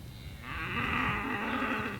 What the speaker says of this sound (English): they are mooing because they think I will bring pellets